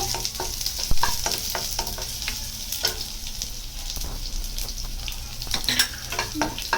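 Garlic sizzles in hot oil in a pan while a utensil stirs and scrapes through it, giving a steady frying hiss broken by frequent sharp clicks and scrapes, close and without talk.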